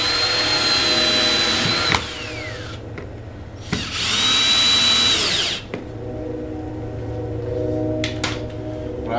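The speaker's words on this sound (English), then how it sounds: "Start with 3, line them all up, and then backfill with the rest of the screws." A power drill driving screws into garage door weatherstripping, two bursts of whining motor with rising and falling pitch, separated by clicks and handling noise, close and loud.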